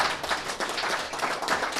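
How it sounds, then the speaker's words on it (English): Audience at a Tradiciones 2021 event clapping together, a dense, fast patter of many hands, close and lively, with no one talking. "Let's give them a round of applause,"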